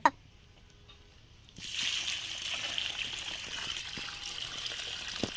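A sharp knock, then a soft quiet stretch, then a steady rushing pour of water that starts abruptly and continues at moderate level to the end.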